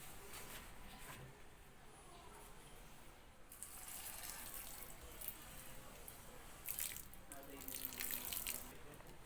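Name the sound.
pouring a little water onto a compost project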